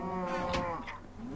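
A Minecraft cow lets out a single drawn-out moo, close and fairly loud, with a wavering pitch and no talking over it.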